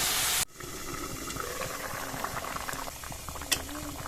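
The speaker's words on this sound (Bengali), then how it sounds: "জল দিয়ে দেবো, চাপা দিয়ে 2 মিনিট সেদ্ধ করে নেব।" Potatoes boil in a covered pot of water, a steady bubbling and hissing simmer with small pops, heard close up after a brief loud burst at the start.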